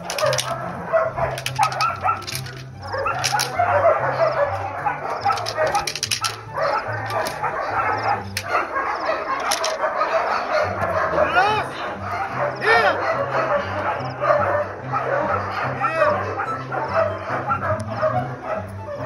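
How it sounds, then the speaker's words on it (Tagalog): A K9-trained guard dog barks repeatedly, mixed with yips and whimpers, over people talking and a steady rhythmic background beat. "Kakagat din ako ng aso"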